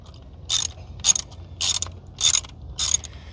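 Ratchet wrench tightening a bolt on a Versys 650 motorcycle, five short crisp clicking bursts in an even rhythm, close and clear against a quiet background.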